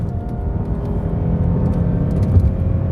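A car's engine drones steadily inside the cabin as it speeds up to pass a slow truck on a highway, a loud, constant low rumble with road noise and no talking.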